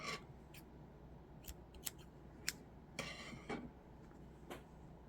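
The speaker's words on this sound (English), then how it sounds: "Pull that knot to the inside, and then you can snip your yarn." Scissors snipping yarn after a loom-knit piece has been knotted: several sharp, close metallic snips and clicks spaced irregularly over a quiet room hiss, with no talking.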